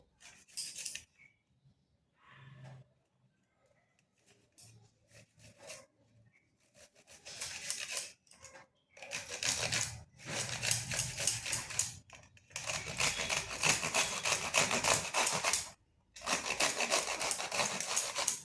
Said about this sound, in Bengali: এইভাবে সমস্ত পটলগুলো গ্রেড করে নিচ্ছি